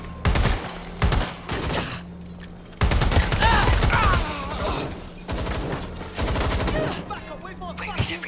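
Shotgun blasts in Watch Dogs: Legion, a series of sharp loud shots at irregular intervals, with shouting voices between and over them.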